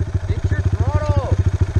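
A Yamaha YZ250F four-stroke dirt bike engine revs with a rapid, steady pulsing throb close by, and a voice speaks briefly over it.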